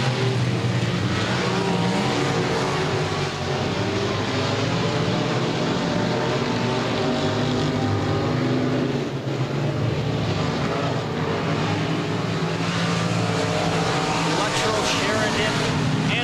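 Dirt track race cars roar around Boothill Speedway in a steady, loud, continuous drone of engines as they run laps, with a commentator talking over the racing.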